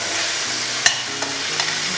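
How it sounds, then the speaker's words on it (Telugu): Carrot, potato and blanched cauliflower frying in hot oil for a veg dum biryani, giving a steady close sizzle broken by a few scraping stirs of the spoon in the pan. "ఈ వెజిటబుల్స్ అన్నీ కూడా ఆయిల్లో చక్కగా వేగాలన్నమాట."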